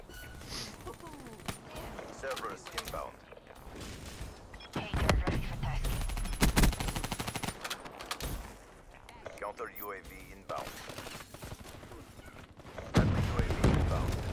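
Rapid automatic gunfire bursts and scattered shots in the video game Call of Duty Black Ops 3 multiplayer, loud and repeated across the clip, with game effects and someone talking over it.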